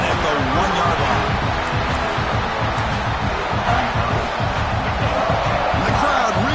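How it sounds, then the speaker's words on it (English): A football crowd roars steadily in a stadium as the defense tries to make a stop near the goal line at the 1-yard line. The noise is dense and sustained throughout, with voices mixed into the din. "the crowd really making some noise now, trying to help out this defense to get this stop near the goal line"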